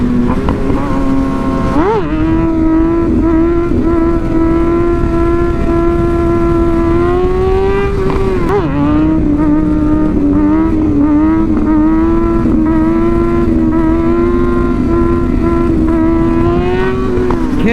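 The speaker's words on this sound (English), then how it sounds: "Good grief, his bike is so touchy, even in third gear." A Kawasaki 636 sport motorcycle pulls hard in gear, its engine note rising loud and steady through revs with a gear change near two seconds and another around eight and a half, riding close throughout.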